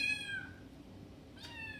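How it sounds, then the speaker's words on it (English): Kittens at an urban rescue ranch homestead, recently separated from their mother for weaning, give two clear meows: one at the very start and another short one near the end, over quiet background noise. "And then these are our kittens."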